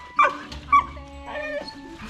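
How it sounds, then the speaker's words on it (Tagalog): Belgian dogs barking in short yips and whimpering, with two sharp, loud bursts close together early on followed by softer whining and panting close by. "Yung mga aso."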